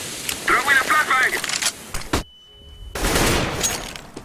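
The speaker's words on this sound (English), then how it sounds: "Throw in a flashbang!" A flashbang is thrown in CS:GO on Inferno amid clattering bursts and gunfire-like cracks. Everything then drops into sudden near-silence with a thin, high ringing tone before the noisy din floods back.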